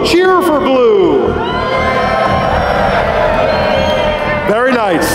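A live event audience cheers and whoops loudly for the blue side, a sustained roar of crowd noise with children's shouts rising and falling throughout.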